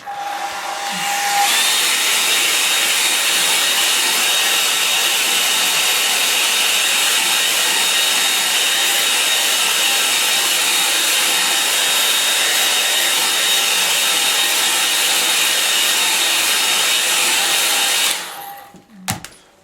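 A hair dryer blows on a freshly painted landscape of a lake, starting up after a second and holding a loud, steady whooshing roar close by for about sixteen seconds before switching off, with no talking.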